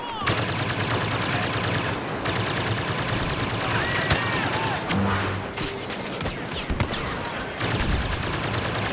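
Rapid blaster fire from E-11 and EE-3 rifles in Star Wars Battlefront crackles in dense bursts, close and loud, over battle noise with distant shots, briefly pausing before resuming.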